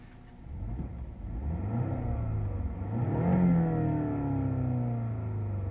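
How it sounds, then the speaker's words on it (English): A BMW 530e M Sport hybrid's engine idles after starting in sport mode, then revs up with rising and falling pitch, a close, continuous mechanical drone with no speech. "so there's the engine after starting up."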